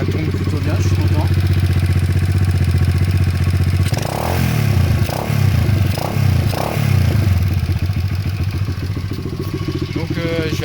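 A 125cc dirt bike with a newly fitted carburettor runs steadily, a loud buzzing engine with several sharp revs in quick succession midway before settling back to idle, alongside some clattering.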